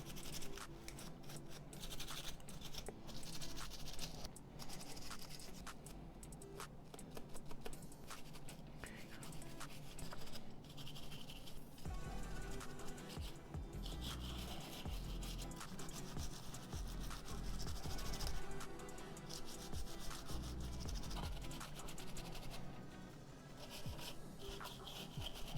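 A dirty phone gets scrubbed clean with quick, close rubbing and scratching strokes, a steady rasping texture that keeps going without a break, with no talk over it.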